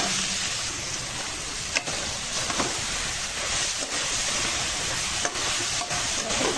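A potato and tomato mixture gets stirred and mixed in a pan over low gas, giving a continuous hissing sizzle with periodic scraping strokes of the spoon, close and steady, no voices.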